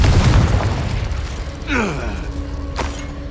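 The Confringo fire blast spell goes off in the Hogwarts Legacy video game, a heavy boom that opens the clip and then fades, followed by a sharper burst and creaking mechanical sounds.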